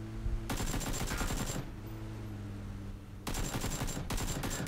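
Rapid gunshots fired at a moving Jeep in PUBG on Xbox One, two fast bursts of loud close shots with a short gap between them over steady game background noise.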